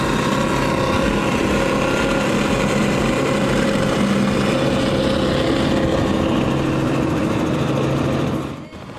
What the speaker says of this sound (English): would love us all to hear the roar of those Goodwin engines